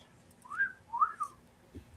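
Someone whistles a short, faint snatch of a tune, a few rising and falling notes in quick succession against a quiet background.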